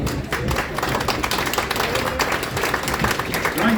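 A crowd applauds and cheers a world champion at the Open Blade shearing final in Rangiora, with steady dense clapping throughout, close and fairly loud.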